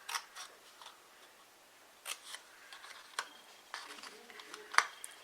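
Scissors snipping through cardstock for a small makeup compact craft, several quiet short cuts in uneven bursts close by, with soft handling noises between them.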